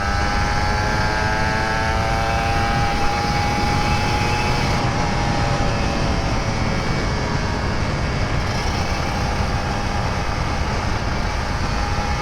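A Kawasaki Ninja RR 150 motorcycle engine drones steadily while the bike is ridden, with shifting whines layered over a constant rushing wind noise.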